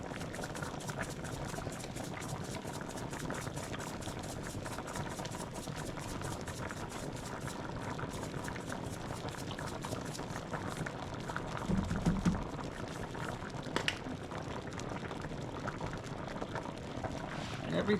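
Pots of Coo Coo with coconut milk and cream bubble on a stove in an apartment kitchen, a soft continuous simmering burble with a low rumble throughout and a brief louder thump near the middle.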